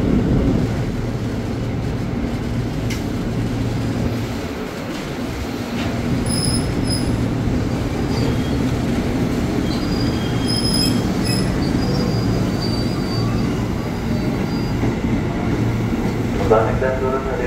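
A KRL commuter train rumbles through Tanah Abang station in Jakarta with a steady loud roll, wheel squeal and bursts of high screech, while a platform announcement plays over the noise.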